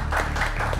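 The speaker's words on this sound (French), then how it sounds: "On applaudit." A studio audience clapping on a French TV game show, a brief, dense burst of applause heard close and alone.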